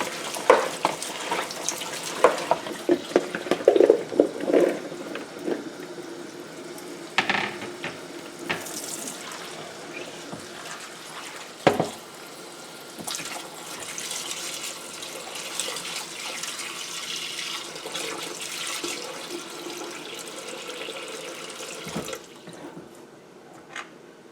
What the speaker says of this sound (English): we can soon strain off our new broth